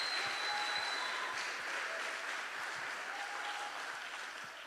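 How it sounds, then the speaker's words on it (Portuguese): A church congregation applauds a theatre and dance group at a family-group conference, a steady wash of distant, hissing applause that slowly tapers off, with no talking. "Quem gostou, dá uma salva de palmas para essa galera."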